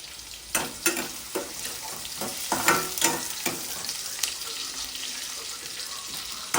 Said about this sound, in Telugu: కట్ చేసి పెట్టుకున్న ఆనియన్ ఆనియన్ వేసుకొని కొంచెం హై ఫ్లేమ్లో పెట్టుకొని మంచిగా ఫ్రై చేసుకోవాలి